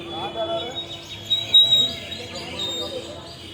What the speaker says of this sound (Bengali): পাখির আওয়াজ কিন্তু এখনও শোনা যাচ্ছে